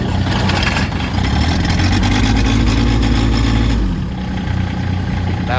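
Diesel tractor engine idling just after a glow plug start, a steady low rumbling chug with a slight dip in level near the end, close and loud with no talk.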